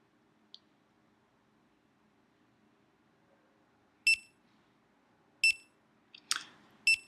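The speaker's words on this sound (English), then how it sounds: "when the timer hits 0, it beeps to alarm you that it is now finished" A kitchen appliance timer beeps at zero with three loud, piercing electronic beeps spaced about a second and a half apart, after a faint click and near silence, with a soft rustle between the later beeps.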